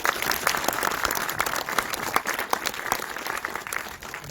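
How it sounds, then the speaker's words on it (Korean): Applause from the audience at a film preview screening as the writer-director is welcomed, sustained clapping from many people that holds steady and then gradually thins toward the end. "큰 박수 부탁드립니다"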